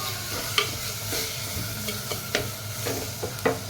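Fish curry mixture with crab being stirred in a pan on the stove, a constant sizzle broken by repeated spatula scrapes and taps, close and moderately loud.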